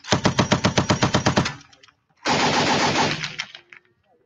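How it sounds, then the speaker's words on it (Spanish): Machine gun on a tank fires during crew practice: a rapid, loud burst of about a dozen evenly spaced shots, a short pause, then a sustained roaring burst that tails off, with no voices. "practice training on the machine gun, which they keep"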